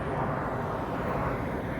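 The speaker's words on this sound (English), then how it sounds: "jet taking off from Harry Reid Airport," Jet airliner taking off from Harry Reid Airport in Las Vegas, a steady broadband roar that holds loud and even throughout, with no talk over it.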